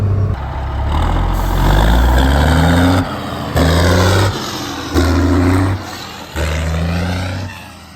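An old truck found sitting in a field revs its engine in repeated pulls, each rise in pitch followed by a drop back to idle, loud and close with no talk.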